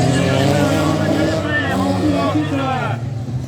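Race cars roar off the start of a dirt circuit round in Bourseul, their engines loud and continuous throughout, with a commentator talking over them.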